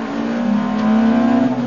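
A Ferrari race car engine revs hard and close, a loud sustained buzzing roar that climbs slightly in pitch over under two seconds, with no talk.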